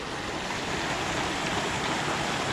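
Small, shallow stream at a hiking-trail water crossing in Baxter State Park, a steady close wash of running water with no voices, holding even throughout.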